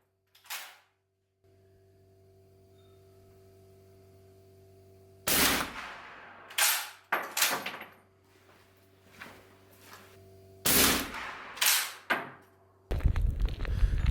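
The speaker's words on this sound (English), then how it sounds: "The reason why we are on the shooting range today is to practice shoot." Several loud, sharp gunshots at a shooting range during practice in the far-north Arctic town of Svalbard, spaced irregularly with quiet stretches and a low steady hum between, followed by a burst of wind noise.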